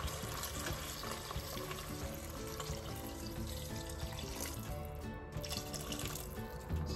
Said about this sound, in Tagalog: ibubuhos natin yung ating pinaghugasan ng bigas